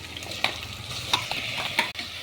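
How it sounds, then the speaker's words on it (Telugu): Washed mutton goes into hot masala oil in a pan, giving a steady close sizzle with a few sharp scraping stirs of a spoon, and no one speaking. "ఇప్పుడు ఆల్రెడీ కడిగేసిన మటన్ వేసుకుంటున్నాను."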